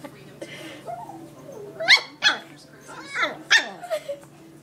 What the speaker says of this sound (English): barking at himself in the mirror.